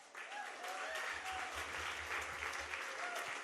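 A crowd bursts into sustained applause with scattered cheers at a live comedy performance, a thick, continuous clapping texture that swells quickly and holds steady for several seconds.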